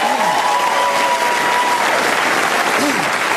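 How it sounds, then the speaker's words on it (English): Studio audience applause on a TV music quiz panel show, a dense steady clatter of clapping that fills the moment, with a faint voice or tone drifting through it. "Yes, applause."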